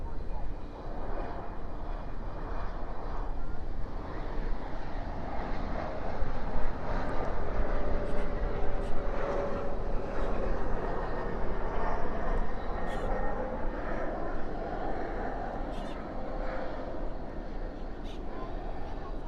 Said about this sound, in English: Spoilers up, reversers out on that CRJ 700 coming in